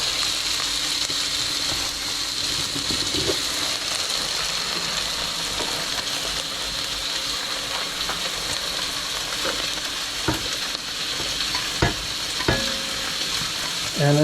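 Chicken pieces with skin on frying in a moderately hot pan: a steady, close sizzle runs throughout, broken now and then by sharp clicks and scrapes from stirring or moving the pieces.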